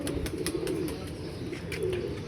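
A pigeon coos repeatedly after settling on its perch, soft low throaty calls repeating over a steady outdoor background, with faint chirps from other birds.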